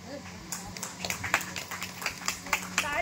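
An audience at a gathering in Sambalpur claps in a loose, uneven burst of handclaps, fairly close, over a low background hum.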